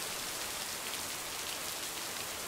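Heavy rain from the video game Lake pours loudly and steadily, a dense, close hiss of drops hitting surfaces with no break and no voices.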